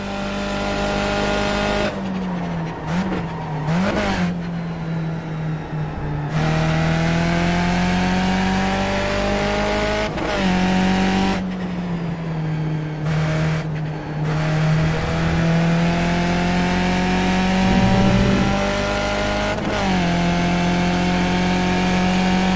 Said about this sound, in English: let you enjoy the wonderful music of the Skip Barber Race Series Formula cars